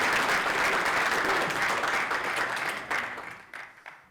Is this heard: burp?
no